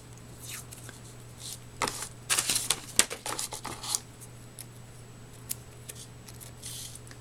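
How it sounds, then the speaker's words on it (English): Scissors snip along the edge of a paper banner for an 8x8 mini scrapbook album, a quiet scattered series of short crisp cuts clustered in the middle, with a faint background hum. "So I'm just going to snip it here"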